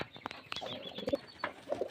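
Pigeons coo briefly nearby, with soft low calls and a few light rustles over a short, quiet stretch. The birds are street-market pigeons.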